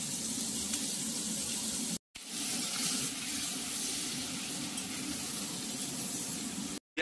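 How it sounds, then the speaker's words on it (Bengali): Chopped onion and black cumin frying in hot mustard oil, a loud, dense, steady sizzle heard close up, broken by two brief cuts to silence. "সর্ষের তেলের মধ্যে কালো জিরে, এবার দিয়ে দেওয়া হচ্ছে পেঁয়াজ কুচো"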